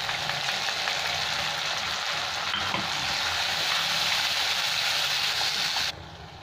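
Onions frying in oil in a Bengali-style prawn and green jackfruit dish, with ground tomatoes added, giving a steady, close, loud sizzle that holds throughout and drops slightly near the end.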